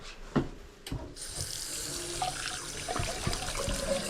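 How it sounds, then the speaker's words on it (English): Hands are washed under a running tap, a steady close rush of water with splashes and shifting flow as the hands move, with a couple of knocks at the start and no talking. "Wash my hands, these are all sticky as shit."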